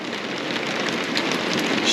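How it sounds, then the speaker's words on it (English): Steady rain patters densely on a boat in misty weather, a continuous close hiss of drops with no voices, even in loudness throughout the short stretch. "Now we're shrouded in mists and rain"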